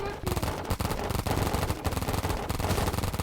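Rapid automatic gunfire in a Roblox game rattles in fast, loud bursts, nearly continuous with brief gaps.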